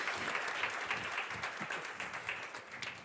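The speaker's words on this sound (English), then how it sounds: "I would like to ask you for a big applause for" An audience applauds a panel at the close of a session at the Fi Europe 2019 food-innovation event, a steady, dense wash of clapping sustained for about three seconds with no voices over it.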